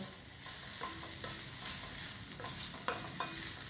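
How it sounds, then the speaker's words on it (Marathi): Soft, steady sizzling of grated coconut sautéing in ghee in a pan, with intermittent scraping strokes as it is stirred; no voices. "आणि थोडासा परतून घ्यायचा आहे आपल्याला"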